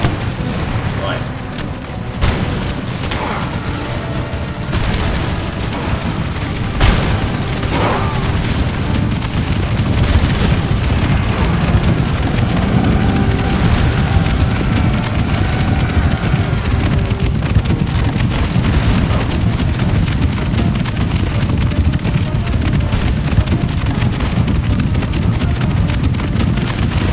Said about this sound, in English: they're going for the mortars, you see. Very inaccurate.